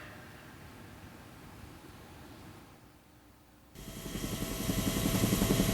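A rescue helicopter flies out to Hinchinbrook Island to winch down to a hiker trapped under a boulder, its rotor wash a steady broadband roar that dips briefly, then swells louder and closer.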